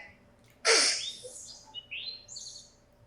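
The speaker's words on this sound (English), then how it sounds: "We hear the birds." Birds chirping outdoors during a town meeting, a sharp loud call followed by several shorter, higher twittering notes, clear over a faint low background hum.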